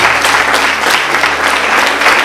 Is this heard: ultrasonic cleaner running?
no